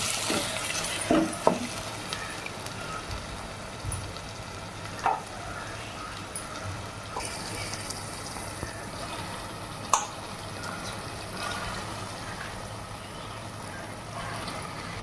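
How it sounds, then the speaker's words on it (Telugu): Chicken pieces go into a pan of cooked tomatoes and onions for country-chicken curry, producing a steady sustained sizzle and bubbling with occasional clinks and stirring knocks, no voices. "ఇప్పుడు మనం చికెన్ యాడ్ చేసుకుందాం"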